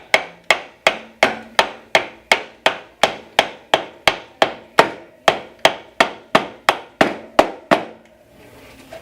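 A track insert is hammered into a track in a steady run of about nineteen sharp, close, evenly spaced strikes, then the hammering stops.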